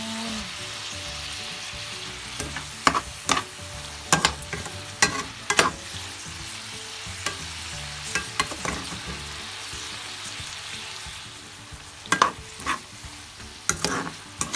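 Spicy fried tofu stir-fry with oyster sauce sizzling in a pan, with repeated sharp scrapes and clacks of a spatula stirring over a steady frying hiss, close and clear, no talk.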